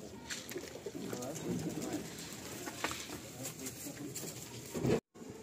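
Pigeons in a loft keep up low, throaty cooing in overlapping bursts, close by, with rustling and fluttering mixed in.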